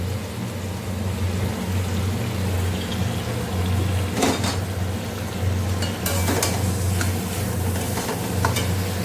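Potato and pointed gourd sautéing with turmeric and cumin powder, a continuous close sizzle over a low hum, with scattered stirring scrapes and clinks of a spatula on the pan.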